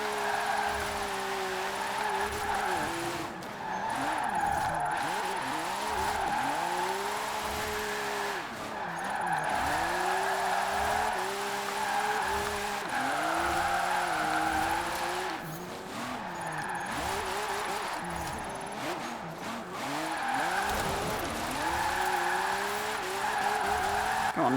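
Nissan 370Z Formula Drift car drifting in Forza Horizon, a steady high-revving engine with repeated shifts and continuous tire squeal across the whole stretch, loud and close, with no one speaking.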